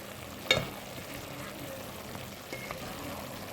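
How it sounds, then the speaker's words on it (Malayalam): A single clack of a spoon against a pot, followed by soft scraping and a gentle sizzle as thick jackfruit curry is stirred. "ചക്കയെല്ലാം ഒന്ന് ഇളക്കി കൊടുക്കാം"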